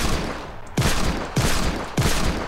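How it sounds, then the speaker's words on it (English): A hand cannon fires three heavy shots in the video game Fortnite: Save the World, loud, evenly spaced booms with short ringing decays between them. "Holy cow, this hand cannon."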